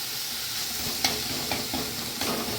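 Spices with ginger, garlic and onion fry in a pan, giving a steady close sizzle with a few brief stirring scrapes and clinks; no voices.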